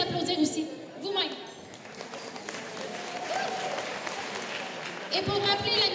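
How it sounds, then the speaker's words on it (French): An audience at a children's charity event for a social pediatrics centre in the Appalaches region of Quebec bursts into a few seconds of loud, sustained hall applause. A French-speaking voice is heard at the beginning and end. "vous pouvez vous applaudir aussi, vous-même."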